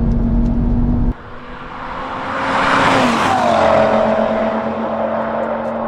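New and old Audi RS3 in a drag race, a loud nearby engine surge and whir rising steadily as the car accelerates hard, with a brief dip before the roaring pull continues, no talk.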